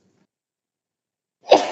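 A single sharp sneeze bursts out in a quiet courtroom hearing after near silence. It is brief and close, and no one speaks over it.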